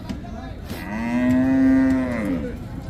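A cow at the Hazratpur cattle haat lets out a single long, rising and falling moo, loud and near, set against the constant murmur of a crowded livestock market.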